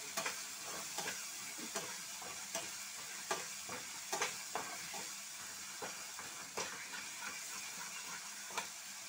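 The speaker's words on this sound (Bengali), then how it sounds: "গরম মশলা গুঁড়োটা একটু কষিয়ে দেবো মশলাগুলোর সঙ্গে।" Garam masala powder fries with other spices in a pan, giving a soft continuous sizzle broken by regular sharp scraping stirs throughout.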